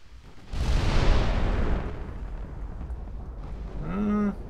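Battleship guns fire in Ultimate Admiral: Dreadnought, a single heavy booming blast that rolls and fades over a couple of seconds, followed later by a short rising tonal sound.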